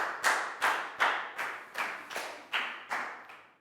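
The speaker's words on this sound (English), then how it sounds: "High five and a big round of applause" Students in a Year 4 math class give a short round of applause, sounding as a series of about nine sharp, evenly spaced claps that are close and moderately loud, with no talk.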